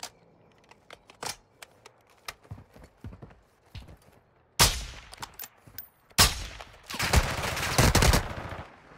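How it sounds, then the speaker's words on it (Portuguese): Sharp sniper rifle gunshot cracks in a video game ring out, a few isolated shots early, then two heavy, booming bursts with reverberant tails, no talking. "Tô errando muito tiro de sniper, velho."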